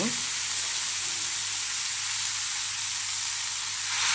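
Togarikalu masala roasts in a hot pan with a loud, unbroken hiss of sizzling that holds steady close by for the whole stretch, with no talk over it.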